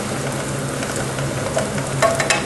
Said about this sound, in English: we'll give these onions a bit of a stir